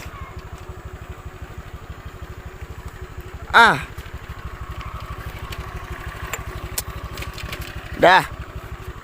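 A motorcycle engine idles steadily close by, a low rhythmic chug running the whole time, while a couple of brief vocal exclamations rise over it.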